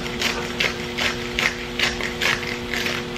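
A Trader Joe's spice grinder twisted by hand, about eight crisp ratcheting clicks in a regular rhythm, close and loud with a faint hum behind.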